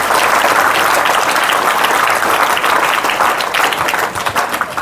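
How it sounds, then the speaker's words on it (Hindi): Loud, sustained applause from a hall of students at a school AI awareness program, dense and even throughout before easing slightly at the very end. "एक बार अपने लिए जोरदार तालियां ऑल स्टूडेंट"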